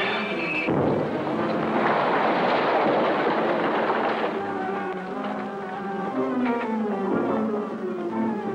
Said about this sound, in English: Whoever it is who set that explosion will expect we were all killed.